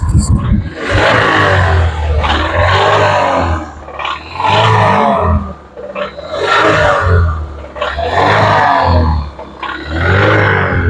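Car engine with rod knock revved repeatedly in loud bursts of about two seconds each, separated by short idle dips, with a close, rough, rattling roar throughout.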